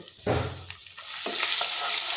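Hot oil sizzles steadily with cumin and crushed ginger-garlic, rising into a dense hiss as it is stirred, with a couple of soft scraping clinks.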